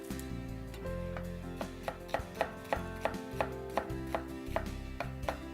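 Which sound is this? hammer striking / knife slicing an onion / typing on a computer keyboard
knife slicing an onion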